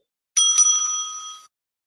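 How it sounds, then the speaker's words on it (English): A timekeeper strikes a small bell once at a school English debate, giving a bright, close metallic ring with a quick second tap that rings out for about a second. "the timekeeper will ring the bell once at the 3rd minute"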